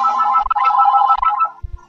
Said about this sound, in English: my phone is ringing